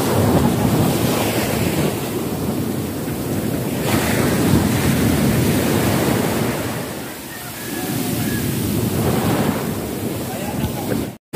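High waves breaking on a seashore, heard from right at the water's edge: a loud, continuous roar of surf swelling and easing in surges, with heavy wind buffeting the microphone throughout.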